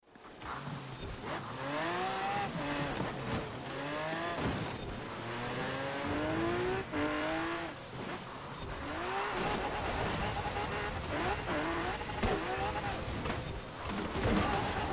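A car sliding and skidding in Forza Horizon 4, with continuous engine drone and repeated rising and falling tire squeals over about fifteen seconds, moderately loud with a voice talking at points.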